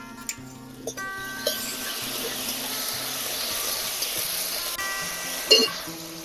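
Chopped tomatoes with salt sizzle steadily in hot tempering oil in a pan, a continuous close hiss with a few soft clinks of a utensil, for a vegetarian drumstick curry.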